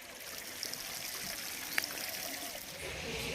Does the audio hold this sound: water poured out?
yes